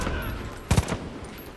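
A short burst of gunfire in the shooter game Far Cry 5 during an outpost raid, two quick close shots standing out over a low ambient rumble.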